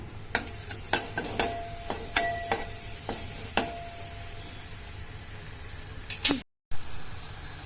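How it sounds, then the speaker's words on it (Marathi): Fifteen to twenty crushed garlic cloves drop into hot oil for a spicy ambadi (sorrel leaf) curry, giving a soft steady hiss punctuated by a string of sharp utensil clicks and taps, with a brief dropout near the end. "आता तेल तापलं की लसूण टाकू आपण पंधरा वीस पाकळ्या लसणाच्या घेतलेल्या आहेत चांगल्या ठेचून"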